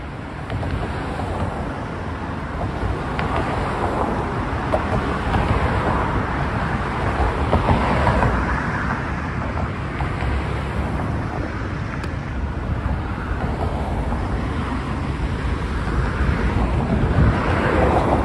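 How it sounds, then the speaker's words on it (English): Steady roar of cars passing over the Brooklyn Bridge in New York, a continuous broadband traffic wash mixed with wind buffeting the microphone, fairly loud and unbroken, with no talking. "I could probably stand up here all day and just listen to the cars whiz by."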